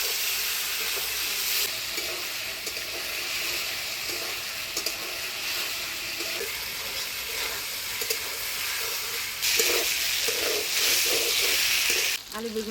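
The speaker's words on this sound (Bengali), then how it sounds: "আলু বেগুনটা মশলা দিয়ে ভালোভাবে কষিয়ে নিলাম" Potato and brinjal frying in a pan with ground spice paste, a continuous close sizzle with intermittent stirring scrapes and bursts of louder spitting near the end.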